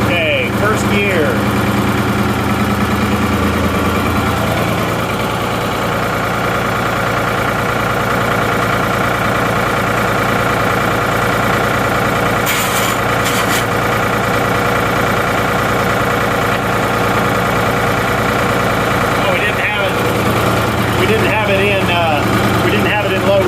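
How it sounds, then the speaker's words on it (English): An old Ford backhoe's diesel engine runs steadily in first gear, a constant close rumble and clatter that shifts slightly in pitch partway through, with brief noises on top. "Okay, first gear."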